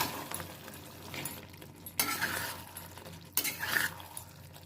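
A spoon stirs chilli chicken in a pan with scraping and light metallic clinks, close and moderately loud. Two sharper strokes stand out, with quieter stirring between them and no talking.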